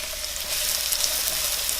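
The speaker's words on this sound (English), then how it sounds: "I reduce the heat down to medium-low and we go in with the onions and garlic." Onions and garlic go into a sauté pan of olive oil over medium-low heat, giving a steady, close hiss of frying that holds evenly with no talk.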